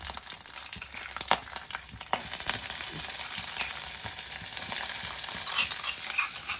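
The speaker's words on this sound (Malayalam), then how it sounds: "ഇഞ്ചി, വെളുത്തുള്ളി, ചെറിയ ഉള്ളി കൂടി അങ്ങോട്ട് ചേർത്ത് കൊടുക്കാം" Crushed ginger, garlic and shallots go into a frying fish-head curry, sparse stirring clinks and spoon scrapes giving way to a sudden, steady, louder sizzle that keeps going alone.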